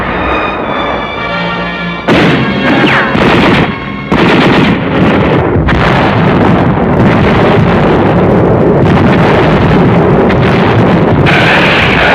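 Korean War artillery fire: loud, repeated blasts and explosions, close and harsh, with some wind buffeting the microphone and no talk.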